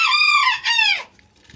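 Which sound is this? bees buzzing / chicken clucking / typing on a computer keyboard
chicken clucking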